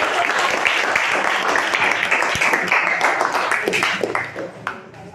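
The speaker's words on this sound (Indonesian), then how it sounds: "Tepuk tangan dulu ya." Applause from an audience in a classroom-style setting after a group presentation, dense and steady for several seconds before tapering off toward the end.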